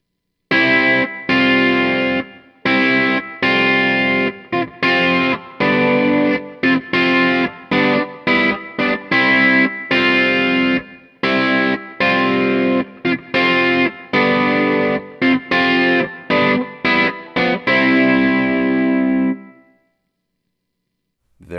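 An electric guitar riff with chorus and spring reverb plays choppy, rhythmic chords for about nineteen seconds, then stops and leaves near silence.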